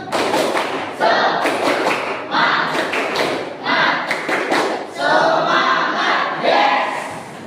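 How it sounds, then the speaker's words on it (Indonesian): A classroom group performs a rhythmic clapping chant, loud bursts of claps and voices in patterned phrases, close and energetic throughout with brief gaps between sections. "Tepuk semangat."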